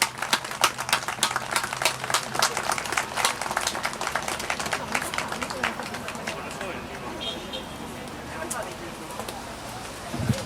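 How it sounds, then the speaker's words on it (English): A crowd at a Stop Asian Hate event claps briskly for several seconds, then the clapping thins out into a murmur of voices and room noise. "Let's just clap, okay?"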